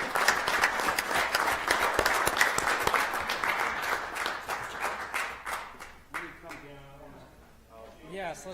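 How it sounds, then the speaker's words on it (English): A city council meeting audience applauds, a dense burst of clapping that thins out over several seconds before voices and talk take over near the end. "Let's give him another round of applause."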